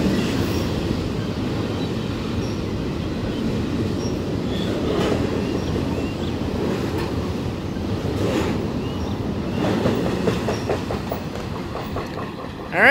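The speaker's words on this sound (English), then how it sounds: "That was train 3 and 4, both Norfolk Southern." A Norfolk Southern freight train rolls past, a continuous rumbling roar with rhythmic clattering of wheels over rail joints that swells and holds steady throughout.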